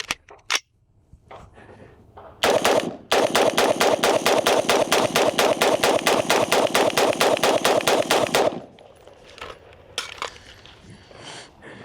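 Sig Sauer M400 Tread V2 rifle firing its first shots outdoors, a couple of isolated loud reports, then a fast, evenly spaced string of sharp cracks lasting about six seconds, followed by quieter handling noise.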